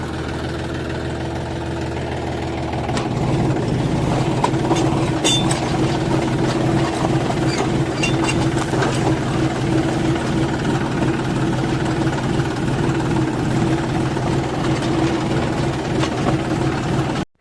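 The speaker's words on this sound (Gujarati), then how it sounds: "અહીંયા નયા ટ્રેક્ટર ઘૂમરા મારે." A new tractor engine runs steadily on a farm, starting quieter then rising to a loud, continuous mid-pitched drone with a faint knocking texture that holds throughout.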